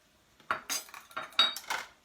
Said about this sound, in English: I'm literally just going to sprinkle these all into the pan